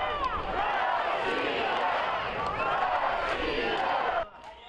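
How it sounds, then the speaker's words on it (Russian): Boxing fans at a bout in a resort town roar and shout in a thick, sustained crowd din with rising and falling waves of yelling, cutting off sharply near the end. "Под оглушительные крики фанатов"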